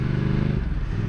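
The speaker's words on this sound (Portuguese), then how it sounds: "a sensação de andar nesta moto" A VOGE 900 DSX motorcycle engine runs steadily and close by while being ridden, a throbbing, even drone with no voices.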